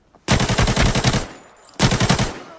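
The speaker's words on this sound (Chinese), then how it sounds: "刚才听见枪声了" Machine gun fire in a shooter video game: a long rapid burst of evenly spaced loud shots, a short pause, then a second shorter burst, close and alone with no talk.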